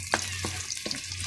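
Garlic and onion sautéing in a pan, a close sizzle with a low steady hum beneath and a few quick stirring scrapes, no talk.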